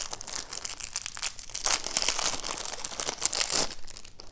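Close crinkling and crackling of bubble wrap, handled in uneven bursts with no speech.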